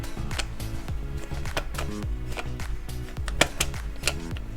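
The eye mechanism in a custom Blythe doll clicks as the eyes change, a rapid run of close, fairly quiet mechanical clicks and small clacks in an uneven rhythm.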